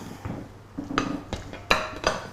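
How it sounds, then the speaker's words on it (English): Metal frying pans clank and clatter as they are grabbed and handled in a kitchen, with several sharp knocks and rattles at uneven intervals, close by and with no voices. "I'm going to grab myself some frying pans"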